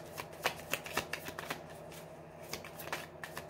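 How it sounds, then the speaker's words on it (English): Tarot cards are flipped and shuffled, giving soft papery riffles and sharp snaps that come in quick irregular bursts, close and quiet, with no one speaking. "I'll flip the cards."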